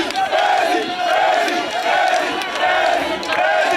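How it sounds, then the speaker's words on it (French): A frenzied crowd at the PDCI-RDA candidacy filing for Henri Konan Bédié chants a slogan loudly, in repeated rhythmic bursts of massed voices. "la foule en délire qui scandait à tue-tête « Bédié, président »"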